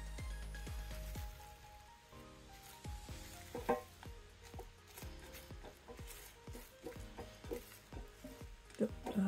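Scrambled eggs with bacon frying in a pan give off a dense crackling sizzle with many quick pops and spatters, rising and falling, close and alone without talking.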